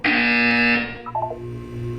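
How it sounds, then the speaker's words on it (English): A loud, harsh electronic buzzer blares in Portal 2 for under a second, then cuts off into a short run of softer synthetic tones over a low hum. "When you hear the buzzer, look down at the floor."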